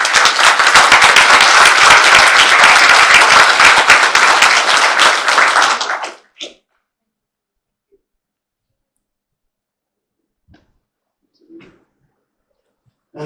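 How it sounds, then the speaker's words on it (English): Audience applause at a community luncheon, a loud, dense burst of clapping for about six seconds that cuts off sharply, followed by near silence with a few faint knocks. "let's have a big round of applause for Will."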